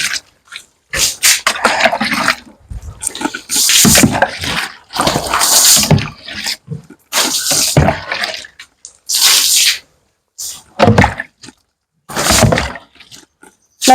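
Water is splashed repeatedly across a pig pen and over a sow, making loud, close, irregular sloshing bursts separated by short pauses, with no talking.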